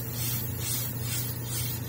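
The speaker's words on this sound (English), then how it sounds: "I'm going to spray from the backside going forward with the clear black" An aerosol can sprays clear black paint onto a 1/4 scale Narin Hellboys model, a steady close hiss running continuously, no talk.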